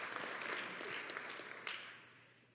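Audience applause in a naval conference hall, a steady wash of many hands clapping that holds for about two seconds and then fades gradually, fairly quiet overall.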